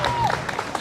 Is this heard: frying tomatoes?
no